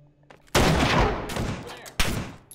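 Gunfire in the VR shooter Hot Dogs, Horseshoes and Hand Grenades: a loud burst of rapid shots starts sharply, rattles on, then a second sharp burst follows, with quiet before the first.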